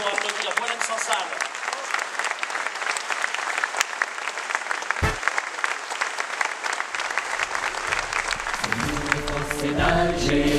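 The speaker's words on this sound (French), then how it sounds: "Vous pouvez vous lever pour applaudir Boualem Sansal." An audience at a congress in Carcassonne stands and applauds an author, sustained dense clapping throughout, with a brief thump midway and voices and cheering rising near the end.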